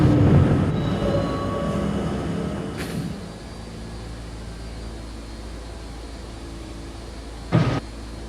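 A video-game R40 Slant C local subway train rumbles steadily along the track, loud and close, with a squealing whine early on that fades into a constant hum and a brief clank near the end.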